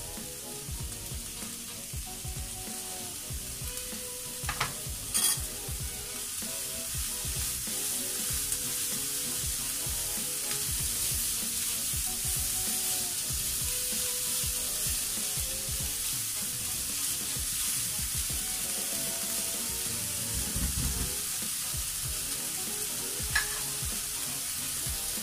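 Crushed garlic cloves and bell peppers frying in a pan for a chicken and rice dish: a continuous, dense sizzle lasting throughout, with occasional small clinks of a utensil stirring, no talking.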